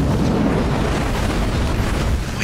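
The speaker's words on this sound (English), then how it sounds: "Dropping bombs." Dense, continuous rumbling blasts of bombs dropping in Halo Wars 2 fill the whole stretch, a steady barrage of low booms with no voices.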